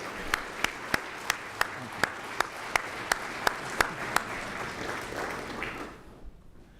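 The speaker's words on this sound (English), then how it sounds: "Let's give another round of applause to these heroes who have given the rest of us a chance to become heroes." At a city State of the City event, audience applause for heroes forms a steady wash under a regular series of sharp, evenly spaced clicks, fading out toward the end.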